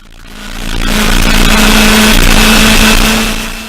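A historic Formula Ford racing car engine at Castle Combe circuit in 2016, roaring loudly as the car passes close by, swelling and fading with a steady high-revving engine note.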